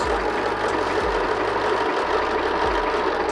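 Sewing machine stitching a cushion cover, a fast steady mechanical whir with low thumping motor pulses starting and stopping in short runs, close and continuous, no talk.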